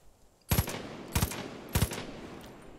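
Gunfire in the video game Far Cry 5, three short bursts of rapid shots about half a second apart, loud and close, each trailing off into a brief echo.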